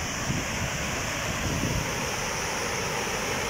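Water rushing through a spillway at a reservoir in Chihuahua city, swirling into a whirlpool: a steady, dense roar with broad low rumble, constant and loud throughout with no voices.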